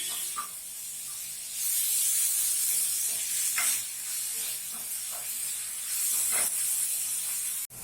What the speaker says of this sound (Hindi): अब हमारी बंद गोभी भी फ्राई हो गई है।